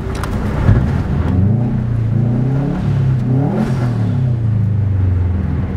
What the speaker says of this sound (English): We're in gear right now, but it's not wanting to move.